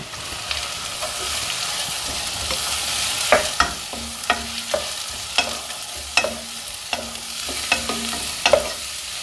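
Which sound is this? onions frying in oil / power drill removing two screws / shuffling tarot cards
onions frying in oil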